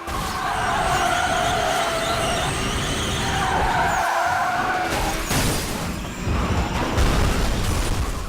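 Racing cars in the PSP video game Burnout Legends skid and roar through oncoming traffic, with continuous engine drone, screeching tyre slides and a sudden crash-like burst near the end.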